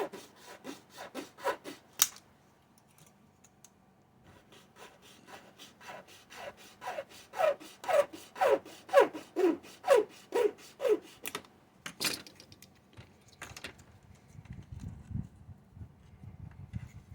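A saw cuts a part off a Titanic wreck model diorama with a run of close, rhythmic rasping strokes. Brief scraping comes first, then a pause, a steady sequence of sharper strokes, a loud knock, and low rustling handling.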